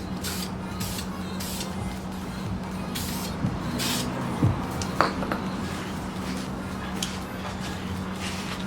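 Spray paint goes onto a car wheel as part of a curb rash repair. Several short hissing bursts sit over a steady low background hum.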